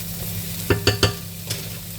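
Frozen vegetables thawing and cooking gently in a pan, a soft continuous sizzle with three quick utensil taps in a row and one more shortly after.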